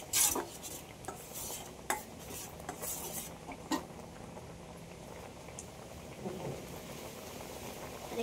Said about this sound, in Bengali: যে চালটা বেটে রেখেছিলাম এর মধ্যে দুধ দিয়ে দিচ্ছি, ভালো করে এর সঙ্গে একটু মিশিয়ে নেবো